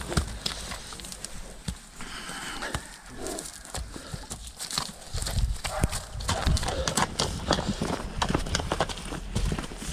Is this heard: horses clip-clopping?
yes